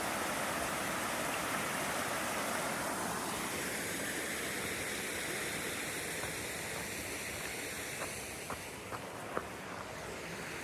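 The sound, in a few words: creek flowing into a lake on the Pacific Crest Trail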